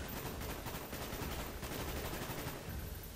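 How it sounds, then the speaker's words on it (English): Rapid automatic gunfire in the Call of Duty Black Ops campaign, inside narrow tunnels, comes as a dense, continuous burst of shots that stays fairly steady in loudness throughout. "Oh, there's me shooting"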